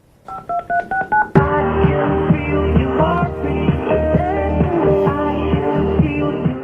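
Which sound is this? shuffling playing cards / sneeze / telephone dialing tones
telephone dialing tones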